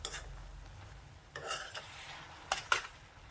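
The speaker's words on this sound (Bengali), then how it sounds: "এই তো এখন আমি নাড়া দিতে পারবো" Spinach greens frying in a pan, with a few soft scraping stirs of a spatula against the metal and a faint low sizzle between them; quiet and close, no talking.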